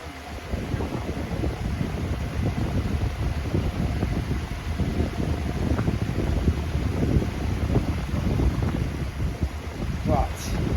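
A homemade high-powered ceiling fan runs loudly, producing a steady roaring rush of moving air with buffeting wind noise across the microphone throughout.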